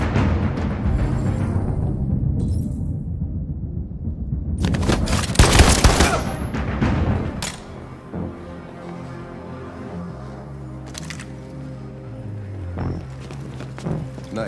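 Rapid gunfire bursts in the Detroit: Become Human video game, a dense loud volley peaking midway before cutting off, followed by quieter ambient game sounds and faint scattered clatter.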